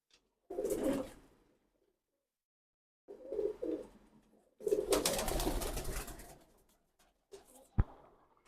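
Pigeons cooing in short bursts, a pure slate-grey cock bird among them, with separate low throaty calls and breaks of silence between, one sharp click near the end.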